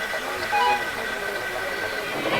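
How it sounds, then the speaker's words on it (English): A railway train is shoved from behind and slowly set moving, giving a soft, continuous rolling rumble with faint tonal squeals, low in level and with no clear voices. "James heaved with all of his might and got the train moving"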